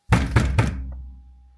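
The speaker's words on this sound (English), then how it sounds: "So I've just been like banging on the walls of my bathroom" Three heavy knocks land in quick succession as a hand bangs on the walls of a bathroom in Namibia, each dull thud close and loud, the last one trailing off into a short resonant decay.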